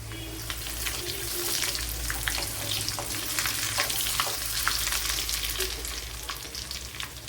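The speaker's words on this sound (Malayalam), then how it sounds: "ഇതിലേക്ക് രണ്ട് മൂന്ന് വറ്റൽ മുളക് ഇട്ട് കൊടുക്കുക" Dried red chillies and curry leaves fry in hot oil for a fish curry, giving a loud, continuous sizzle with crackling spits and occasional stirring, close up and with no talk.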